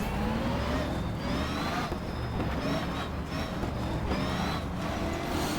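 Car engine racing in Assetto Corsa, a continuous loud revving drone with pitch climbing and dropping through repeated gear shifts.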